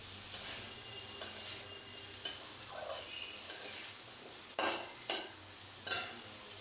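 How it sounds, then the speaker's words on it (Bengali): Potatoes with turmeric and salt fry in a pan with a constant sizzle, broken by several sharp scrapes and clacks of a spatula stirring at uneven intervals. "লবণ আর হলুদ দিয়ে আবারও একটু ভেজে নিচ্ছি।"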